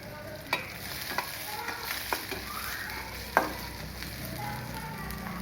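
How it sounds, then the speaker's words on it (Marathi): Chopped onions sauté in a pan with mustard seeds, cumin and a pinch of asafoetida, sizzling steadily and crackling softly while a spatula stirs and knocks against the pan now and then. "ते मी चिरून घेतले, ते परतून घेते"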